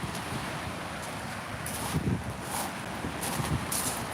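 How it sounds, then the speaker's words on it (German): Loud surf breaking on a stony Baltic Sea beach at Fehmarn, a constant roaring wash with wind, swelling now and then as waves hit the stones, no voices. "Also die Brandung ist wirklich laut."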